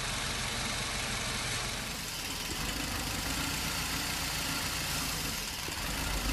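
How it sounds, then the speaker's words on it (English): A Ford Escape car engine idles steadily and close by, its rough running wavering slightly partway through as the EGR solenoid activates and it briefly stutters. "you should, if everything's working correctly, hear the engine stutter"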